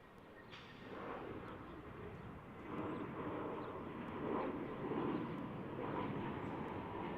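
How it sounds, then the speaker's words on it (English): An Alaska Embraer E175 airliner rolls on runway 16 left at Salt Lake City International, a steady broadband engine roar that slowly builds in loudness across the clip with no speech. "Next up is Alaska on an Embraer E175 on runway 16 left."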